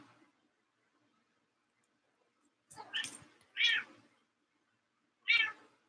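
A cat meows three times at close range in an otherwise quiet room, with short, bright calls in an uneven rhythm after a few seconds of near silence.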